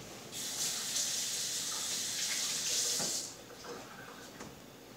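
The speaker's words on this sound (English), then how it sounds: "just rinsed my hands" Hands being rinsed under a running kitchen tap while cooking, a steady hissing gush of water that lasts about three seconds and then stops, with quieter kitchen clatter after it.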